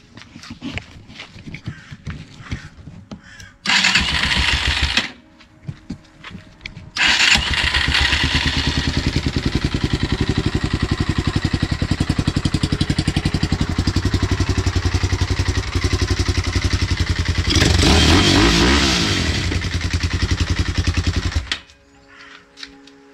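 A Yamaha TT-R 250 motorcycle engine idles and revs nearby with a rough, pulsing clatter, dropping out briefly and then restarting to run loudly and steadily, with louder revving bursts.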